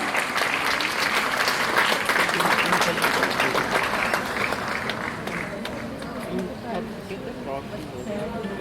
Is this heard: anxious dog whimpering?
no